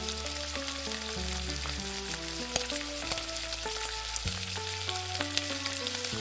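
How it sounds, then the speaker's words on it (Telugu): Cumin and fennel seeds frying in hot oil for a dhaba-style spinach dal, a constant crackling sizzle heard up close under steady background music, with no talking. "జీలకర్ర వేగుతున్నప్పుడు ఒక అర టీ స్పూన్ సోంపు కూడా వేసుకుందామండి"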